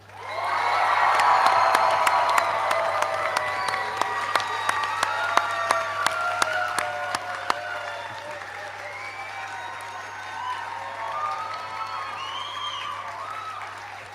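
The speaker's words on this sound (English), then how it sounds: "Huge cheer and a round of applause." A graduation ceremony audience cheers and applauds in a big, sustained roar of clapping mixed with whoops and crowd noise, loudest early on and gradually easing over fourteen seconds.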